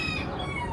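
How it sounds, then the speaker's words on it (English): Chickens cluck softly in a short burst, slightly distant, with no talking. "those are my grandpa's chickens in the background"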